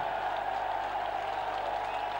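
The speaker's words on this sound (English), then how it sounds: "sympathetic jeers and applause from the Saints faithful" St Helens rugby league fans at a 1997 cup match against Keighley let out a steady wash of crowd noise with scattered clapping and jeering, continuous and moderately distant for about two seconds.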